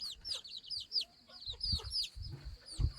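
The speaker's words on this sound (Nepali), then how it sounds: "चल्लाखोरी यहाँ हो, सानो चल्ला यहाँ भित्र छन्।" Small chicks chirp in rapid high peeps inside a coop while hens cluck low underneath, a busy close-up flock sound with irregular bursts.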